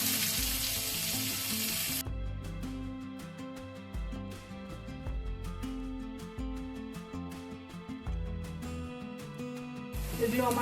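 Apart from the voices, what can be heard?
frying chopped onion, ginger, capsicum and green chili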